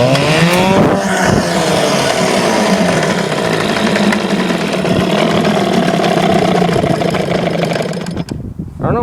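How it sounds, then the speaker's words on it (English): A Johnson 4hp outboard motor runs steadily after a pull start, its loud, continuous engine drone holding for about eight seconds before briefly dropping off near the end. "I gotta get started up again with the pull starter."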